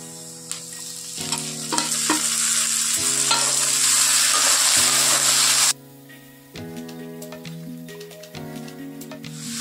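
Chopped tomatoes and green chillies fry in a pan with a loud, close hissing sizzle, broken by repeated spatula scrapes and stirring knocks, and the roar drops off sharply partway through.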